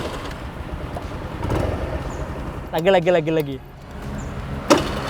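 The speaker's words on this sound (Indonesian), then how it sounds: "Dengerin ya suara starternya nih." Electric starter cranking on an old carbureted automatic scooter, a short clicky whirring burst of about a second, loud and close, with talk before and after.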